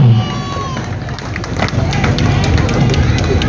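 A seated audience welcomes the second speaker at an interactive dialogue event with dense, steady applause that fills the room and carries on evenly throughout.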